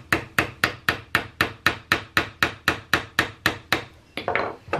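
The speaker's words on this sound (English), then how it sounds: "I gently tap it with my chasing hammer, checking the other side." A chasing hammer taps a gun part in a steady run of about fourteen sharp, evenly spaced metallic strikes, close and clear, ending in a brief softer rustle.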